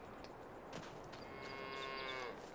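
Cows and calves in Farming Simulator 22 give a faint, drawn-out moo lasting about a second, with soft clattering and ambient farm noise around it and no talking.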